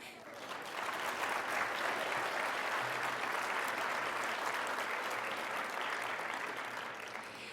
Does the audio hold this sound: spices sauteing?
no